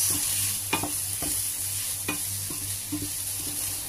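A spoon scrapes and stirs cabbage and potato curry in a pan, with several distinct clacks against the metal over a steady, low sizzle of frying.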